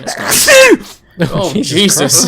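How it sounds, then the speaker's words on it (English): A man sneezes sharply in the middle of speech, with close talking before and after the burst. "I needed a bit of a sneeze."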